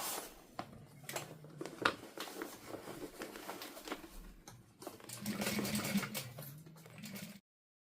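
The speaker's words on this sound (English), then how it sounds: "I'm going to top stitch first, and then once I get the top stitching done, I will close up this pocket" A sewing machine top stitches a fabric pocket in a run of steady, rapid mechanical stitching with brief pauses, then a louder sustained burst near the end, close and alone.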